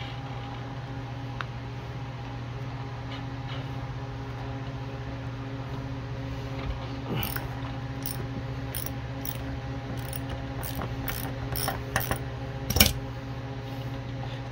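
A ratchet with a 10mm socket backs out a bolt, its quick metallic clicks sounding in scattered runs over a steady electrical hum. A sharper clack near the end stands a little louder than the rest.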